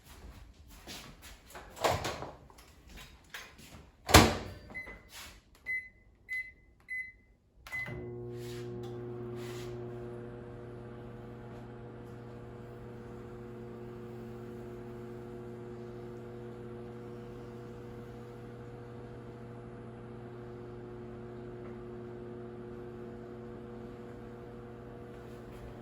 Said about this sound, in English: just put it in the microwave for 20 seconds